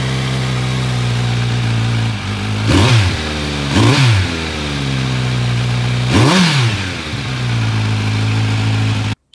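A Kawasaki Z900 motorcycle with a slip-on exhaust idles with a deep, throaty note, then revs hard three times in quick blips before settling back to a steady idle, close and loud.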